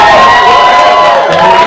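A large convention crowd at a Power Rangers fan event cheers, whoops and applauds steadily, a dense, loud wash of voices and clapping close by with no pause.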